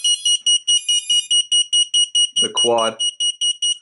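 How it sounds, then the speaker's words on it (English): Electronic beeper on an Eachine Novice III FPV quadcopter, sounding a steady train of short, loud, evenly spaced high beeps throughout, with someone speaking briefly over it partway through. "now it's beeping, because on a radio controller you have the beeper here"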